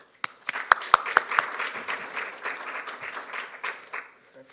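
An audience applauds to welcome speaker Dr. Ida Sim at a UC Center event, a steady burst of clapping that swells and then tapers off over several seconds.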